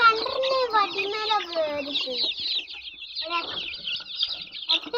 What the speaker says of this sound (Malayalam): പൂവൻ കോഴിക്കുണ്ട് നാടൻ നാടൻ കോഴിയുണ്ട്